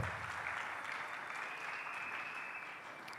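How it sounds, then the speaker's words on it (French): Church congregation applauding loudly and steadily throughout, a dense continuous wash of clapping with no pauses. "Acclamons à présent très fort la parole."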